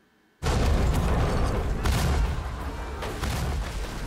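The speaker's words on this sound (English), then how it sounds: "use cannons, so that's using up some of their artillery." Pirate ship cannon fire from the TV series Black Sails, a sudden heavy boom followed by further rumbling blasts and sustained roaring, loud and close.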